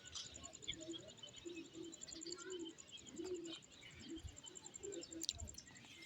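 Pigeons coo softly in a home loft where they have laid eggs, with repeated low throaty calls in short bursts, faint and close, alongside a few light chirps and a voice in the background.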